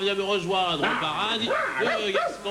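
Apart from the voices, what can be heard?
dog Coolio barking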